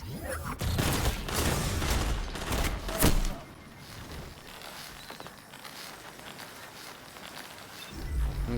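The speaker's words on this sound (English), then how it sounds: "so we get 2 shots from the Telesto" Telesto weapon fire in the Destiny 2 video game during a deathmatch: a loud cluster of sharp, booming shots crowds the first three seconds, then gives way to quieter rumbling game ambience before another burst swells at the very end.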